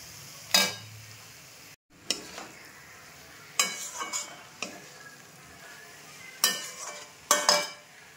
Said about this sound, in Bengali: গ্যাসটা সিম করে অর্থাৎ লো ফ্লেমে রেখে এটাকে কষাতে হবে।